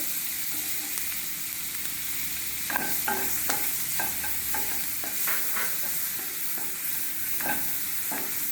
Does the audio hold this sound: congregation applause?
no